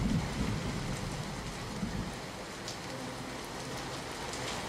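Steady heavy rain in Kheda falls in a constant wash of hiss, moderately loud, with a low rumble underneath and no talking.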